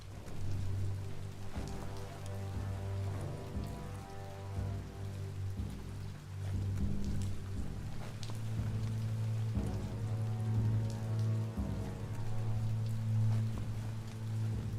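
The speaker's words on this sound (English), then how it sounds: "That better be rain." Steady rain falling in the video game Biomutant, a continuous hiss of drops under a low droning hum and layered game ambience, even and moderately loud for the whole stretch.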